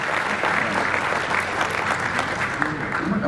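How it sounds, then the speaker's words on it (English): Audience applause at a forex trading summit in Miami as a panel host is introduced, a dense, steady wash of many hands clapping throughout with faint voices mixed in. "Ladies and gentlemen, round of applause for Michaela Silvestri, hosting our next pan"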